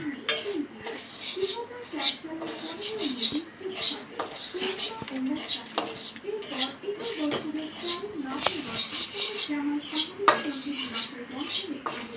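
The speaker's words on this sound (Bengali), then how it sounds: "সুজিটা ভেজে নেব, নাতে গন্ধ করবে।" Semolina is stirred and roasted in a pan, with a steady stream of metal spoon scrapes and clinks against the pan, close, while a person talks throughout.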